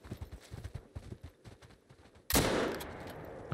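Rhythmic hoof-like thuds from water buffalo in the video game Call of the Wild, then a single loud, sudden rifle shot whose blast rings on and decays to the end.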